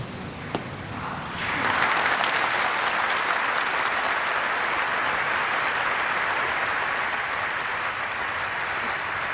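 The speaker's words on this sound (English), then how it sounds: "his was the only speech that got applause." Sustained applause from a funeral congregation follows a eulogy, starting abruptly after a brief quiet moment and holding steady and full for several seconds, with no voices over it.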